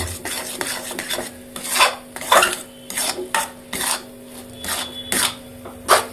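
Kochuri filling with garam masala stirred in a metal pan, irregular scraping and clinking of a utensil against the pan, close by and fairly loud, without speech.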